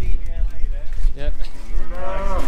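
Moo from a small speckled shorthorn cow being clipped, with several drawn-out lowing calls over low barn noise.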